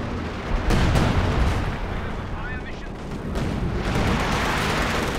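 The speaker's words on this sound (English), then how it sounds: "In fact, double barrage over here." Artillery barrage in Company of Heroes 2 during a 2v2 match, with dense, continuous booming shell fire and explosions rumbling loudly throughout, while a commentator talks over it.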